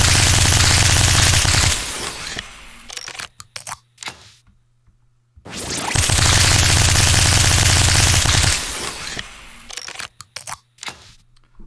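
Redesigned automatic gunfire from the Borderlands 3 video game, two long loud bursts of rapid shots, each slowing toward the end of the clip and followed by scattered mechanical clicks and clacks.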